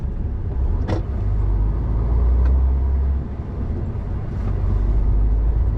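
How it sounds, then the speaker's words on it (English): A vacuum excavation truck sucks soil away from fragile buried services, a loud, steady low roar of engine and suction that holds throughout, with a few brief higher bursts standing out. "Pretty much like a vacuum in a truck, really, isn't it?"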